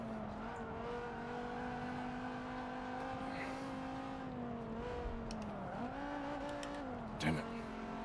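A car engine in Forza Motorsport 7 holds a steady high drone, then its pitch dips sharply and climbs back as the gear drops, with a brief scrape near the end.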